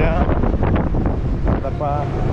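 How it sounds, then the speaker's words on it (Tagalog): Strong wind buffets the microphone aboard a boat off Socorro, a loud continuous roar with gusty surges, while a voice speaks over it. "ang lakas ng hangin"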